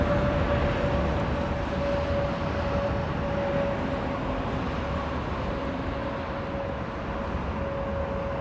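DC-10 airliner at London Heathrow Airport with engines under power, a steady distant roar with a faint sustained whine, no talking.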